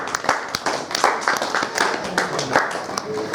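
An audience at a Lions club stage event claps in sharp, uneven bursts, individual hand claps standing out close by, with voices talking underneath throughout.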